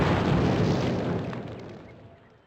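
A loud explosion in the Call of Duty PC game: a heavy, broadband blast hits at once, then its rumbling tail slowly fades over a couple of seconds.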